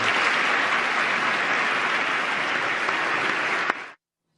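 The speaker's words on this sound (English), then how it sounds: "That applause lasted for more than 2 minutes." Loud, sustained applause from a large audience after a speech, thick and continuous before cutting off abruptly into silence.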